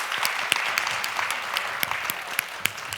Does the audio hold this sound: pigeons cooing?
no